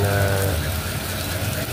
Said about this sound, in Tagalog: tuloy-tuloy ng pag-ulan, araw-araw